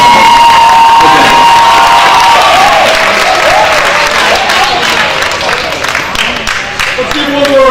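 Loud applause and cheering for honor roll students at a school banquet, a dense roar of clapping with whoops and children shouting that swells then slowly thins out.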